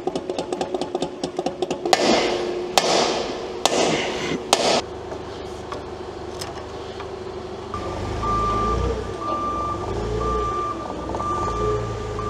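A forklift in a heavy-truck repair shop sounds a steady, evenly spaced series of loud reversing beeps, joined partway by a low engine rumble, with a few sharp clanks and bangs early on and no talking.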